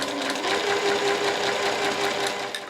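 A sewing machine runs continuously, stitching the side seam of a two-tone tote bag, its steady close motor whir and needle rattle holding at an even level throughout.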